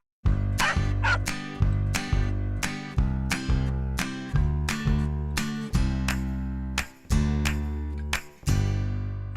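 Puppies waiting in shelter care for adoption bark again and again, with loud, close yips and bow-wows repeating roughly every half second to second, and no talk.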